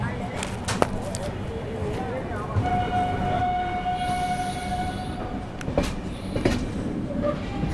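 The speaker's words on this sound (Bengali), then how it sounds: "ছেড়ে দিল আমাদের train Rajkot junction railway station থেকে" Indian passenger train running out of Rajkot Junction, a steady rumble of wheels and carriage noise with brief clatter, a sustained tone midway, and people talking over it.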